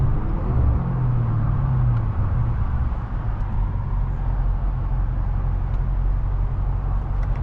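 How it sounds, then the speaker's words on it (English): Dense rush-hour road traffic heard from inside a BMW M550i, a steady loud low rumble of engines and tyres with the car's own drone running throughout and no pauses. "It's fucking rush hour."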